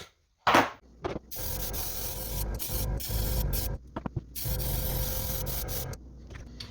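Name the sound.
spray painting black onto the back of a swimbait lure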